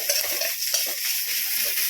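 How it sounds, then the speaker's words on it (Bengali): Ginger and garlic are stirred in a kadai, producing a continuous close sizzle with soft scraping strokes throughout, no talking. "নিজে যে কড়াইয়ে আদা রসুনটা একটুখানি নেড়ে নিচ্ছে"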